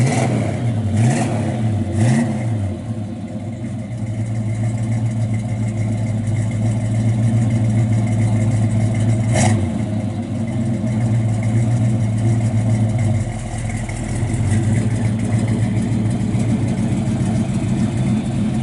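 A 1970 Chevrolet Chevelle SS 454 V8 with correct exhaust tips, heard from behind the car: loud, rumbling idle broken by a couple of quick throttle blips early on, then a sustained deep burble with brief rises in revs.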